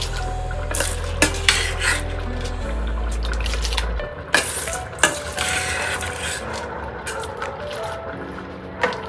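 Soaked rice is stirred in a pot for dum biryani, with scraping spoon strokes, wet clinks against the metal and a low hum from the stove, no voices.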